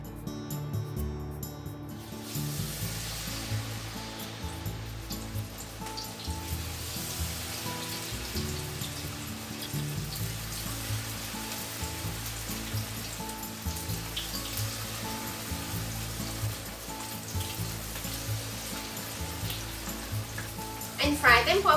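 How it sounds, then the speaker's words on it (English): Vegetable tempura (kakiage) fritters fry in hot oil for udon, giving a steady, close crackling sizzle that holds throughout with no talking. "And fry them for about 1 to 2 minutes on each side."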